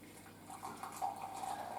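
Recently boiled water pours into a bowl set on kitchen scales while malt loaf dough is being prepared, a short steady splashing trickle close by.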